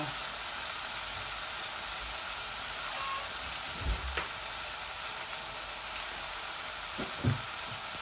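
Duck curry cooking in a wok, a steady, even sizzle with a couple of faint knocks from the pan, no voices over it.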